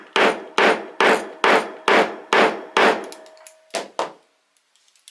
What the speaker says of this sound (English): You can hold that in place and hammer that through.